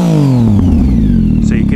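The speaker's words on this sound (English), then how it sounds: "So you can hear it has that nice pop. I took out the decibel killer." Triumph Tiger 800 motorcycle with its decibel killer removed, a loud close exhaust note falling as revs drop, followed by a few sharp popping bursts near the end.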